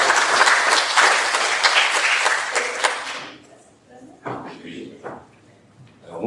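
Warm applause from a conference audience for a speaker at an event in Guadeloupe, sustained and dense for about three seconds before fading, followed by a few scattered sounds and a voice.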